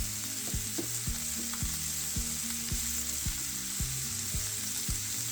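Ground beef and onions browning in a skillet with salt and pepper, a constant close sizzle broken by regular knocks and scrapes of stirring, no talking.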